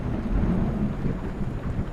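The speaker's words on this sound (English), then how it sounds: "We're in a bit of a storm" Heavy rain and a rumbling thunderstorm in a VR racing game, a dense, loud, steady roar with deep low rumble throughout and no voices.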